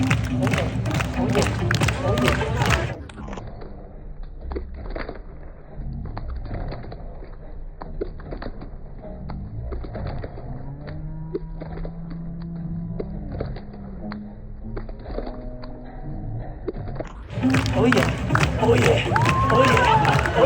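A street-performance crowd in Covent Garden claps and cheers loudly for a circus artist, a dense burst at the start and another at the end, with quieter murmuring and scattered sounds between.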